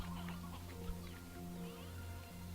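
Chickens cluck in the farming game Slime Rancher, a few soft, close clucks over a steady low background hum.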